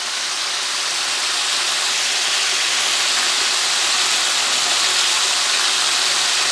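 Chicken wings for Korean hot wings deep frying in oil, a steady, loud, broadband sizzle and hiss that holds evenly throughout without pauses.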